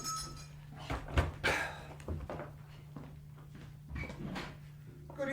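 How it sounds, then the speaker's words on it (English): Front door being answered and opened in a radio drama: a latch clicks and the door moves with a few knocks and rattles, near, over a steady low hum, with brief voices around it. "Yes, I'll answer Dr. the door."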